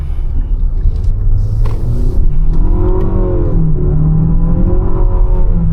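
An Infiniti QX60 VC-Turbo, a 2025 model, accelerates with its turbo coming on, giving a steady loud engine rumble and whir that rises in pitch as it pulls, with no talk over it.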